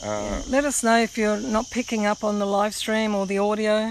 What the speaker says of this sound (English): Cicadas, if you can hear that.